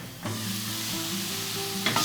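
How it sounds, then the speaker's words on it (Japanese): Shiitake mushrooms land in a well-heated frying pan with no oil and burst into a sharp, close sizzle that holds steady for a couple of seconds. "フライパンをしっかりと温めたら椎茸を入れていきます。"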